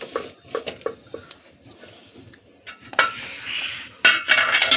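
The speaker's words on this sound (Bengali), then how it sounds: "ওভেনে আরেকটা কড়াই বসিয়ে দিলাম" A metal kadai is set down on a kitchen stove amid clinks and knocks of utensils, a few sharp close metallic taps early, then clattering and scraping of cookware that grows busier toward the end.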